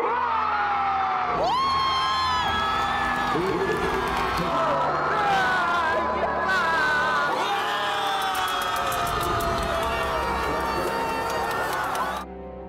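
A large crowd of citizens roars and cheers loudly and continuously as the impeachment motion against President Yoon Suk Yeol passes, with whoops and shouts rising over a sustained wall of noise.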